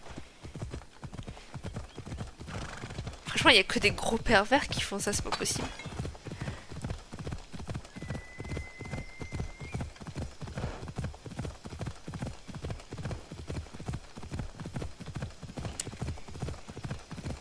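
A horse walks with steady, even clip-clopping hooves throughout, close by, while someone talks over the footsteps and a brief whinny-like noise rises partway through.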